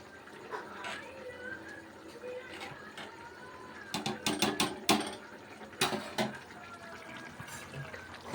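Basmati rice with curd stirred in a pot for egg dum biryani, giving scattered spoon scrapes and clinks against the vessel, with a cluster of sharper knocks midway and light background noise.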